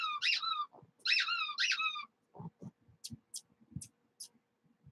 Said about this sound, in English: automatically forces him to go after a squeaky sound